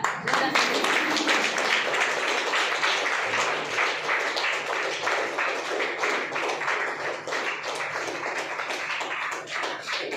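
A crowd claps steadily for several seconds at a university felicitation ceremony, a dense patter of many hands that stays loud throughout.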